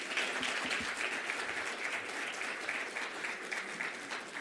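Steady, dense applause from a conference audience at a summit closing ceremony, sustained clapping at an even level throughout with no voices standing out.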